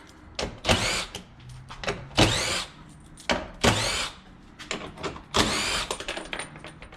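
Several short bursts from a power drill-driver spinning an 8 mm socket to back out front bumper bolts on a 2019 Ford Mustang, each whirring burst close and loud, separated by brief pauses.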